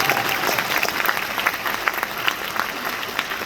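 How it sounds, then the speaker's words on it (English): Applause from the audience at an FBA Expo event in Dallas, a steady dense wash of clapping from a sizable crowd that holds at an even level from start to end. "I want to just give them a round of applause also"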